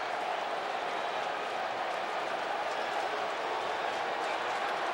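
Mets fans in the visiting cheering section at Wrigley Field cheer for a two-run homer by Ankiel against the Cubs, a steady wash of distant crowd applause and roar filling the whole stretch.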